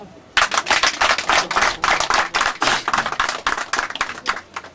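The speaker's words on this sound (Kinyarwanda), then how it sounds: "Nkaba nagira ngo abaturage bose bakire bano bashyitsi babaha amashyi menshi cyane." Wedding guests applaud together in a dense, lively burst of clapping that starts suddenly and carries on steadily, close and loud throughout.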